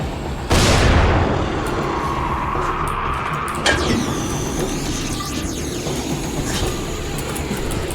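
Grenade explosions in the video game Dying Light The Following: a loud, sudden blast with a long rumbling tail, then a second, weaker detonation a few seconds later over steady game ambience.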